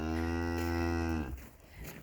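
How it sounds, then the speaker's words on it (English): A cow in a farm cow yard gives one loud, close, drawn-out moo that ends abruptly, followed by faint ambient noise. "So this is the cow yard."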